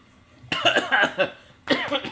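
A person coughs in a short burst of several harsh, close coughs, followed after a brief pause by another couple of coughs, during a video game livestream.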